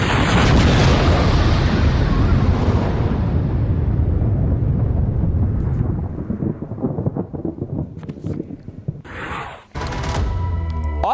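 An IDF strike on Hezbollah positions in a Lebanese village sets off a huge, roaring explosion whose rumble swells and slowly fades into crackling debris and scattered secondary bangs, followed by a few sharp louder thumps near the end.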